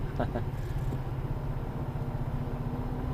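A rear-wheel-drive rigid truck spins its wheels on snow, giving a close, steady engine drone with a pulsing rhythm.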